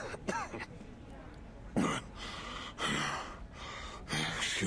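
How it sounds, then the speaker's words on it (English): A passenger on a train in the game Reverse: 1999 coughs and clears his throat hard in several loud harsh bursts, with gasping breaths between them. "A passenger leans there, coughing hard, drawing the attention of the steward."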